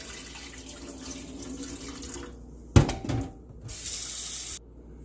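Rice is rinsed under a running kitchen tap in a strainer, with a burst of splashing water and then a steady stream of water hissing into the sink before it cuts off.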